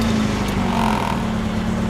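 A Honda Civic wagon's B20VTEC engine with basic intake and a 2.5-inch exhaust to a Vibrant stealth box idles steadily just after startup, a close, even hum with a low droning tone.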